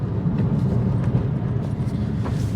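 A Subaru STI fitted with a new twin clutch kit drives along, giving a steady low engine drone and road rumble, moderately loud and constant, with no talking.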